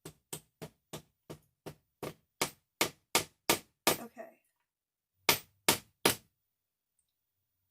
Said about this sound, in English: Sorry about the banging. Hope it's not too horribly loud for your ears.